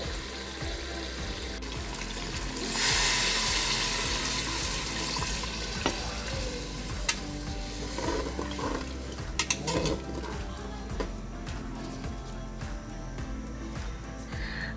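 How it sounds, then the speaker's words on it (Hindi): Water is added to a chicken and potato curry after the spices have been fried down until the oil separates, giving a steady sizzling, bubbling pour into the hot pan with some clatter, close and fairly loud, with no talking. "अब हम इसके अंदर हस्ब ज़रूरत पानी ऐड करेंगे।"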